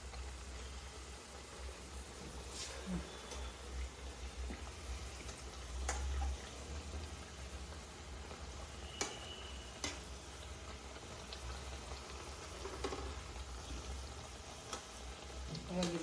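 Chana dal vada (kadale bele vade) frying in hot oil, a steady faint crackling sizzle with occasional small pops and clicks running throughout, fairly quiet and continuous.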